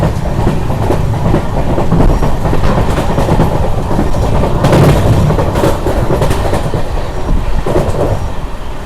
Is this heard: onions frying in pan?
no